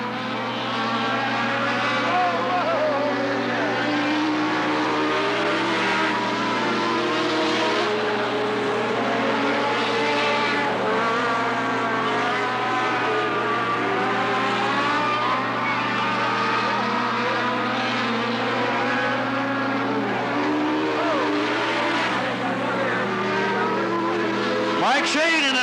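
Race cars roaring around the oval at Cottage Grove Speedway in 1991, a continuous loud engine drone with shifting pitch as cars pass, under steady announcer commentary for the whole stretch.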